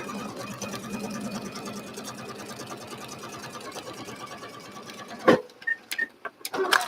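A sewing machine runs steadily as quilt border pieces are stitched together, a continuous fast mechanical whirr for about five seconds that stops into a few sharp clicks and handling taps.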